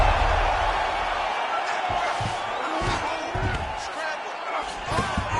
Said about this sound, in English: Nice double leg shot. Oh, slams his opponent to the ground.